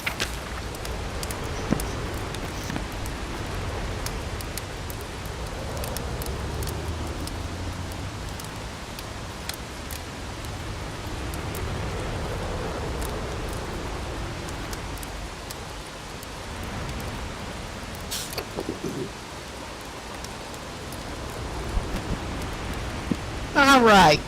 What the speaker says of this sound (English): We are going to stand out in the open in a freaking rainstorm